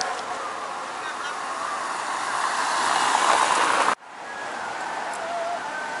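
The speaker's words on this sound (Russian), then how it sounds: "и я уже вижу отсюда просто нереальные волны" Storm waves crashing on the beach at Alanya, Turkey, during heavy rain and rough seas; a loud continuous roar of surf that swells, cuts off abruptly, then resumes more softly with wind.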